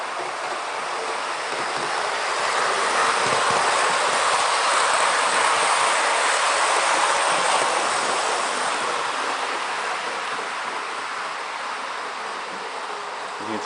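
An Acela Express model train runs steadily around smooth curves of a layout, giving a continuous close rolling rush and hiss at even loudness throughout, with no talk.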